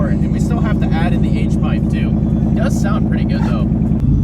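A Ford Mustang GT idles with a custom-built side exit exhaust, not yet fitted with an H-pipe, giving a steady, deep, rumbling burble close by while a person talks over it.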